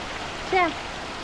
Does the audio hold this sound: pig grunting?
no